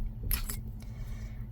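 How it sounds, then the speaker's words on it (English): Scissors cutting yarn during a crochet project, two quick crisp snips close together followed by a faint third, quiet and up close with no talking. "So we're gonna come in with my scissors here."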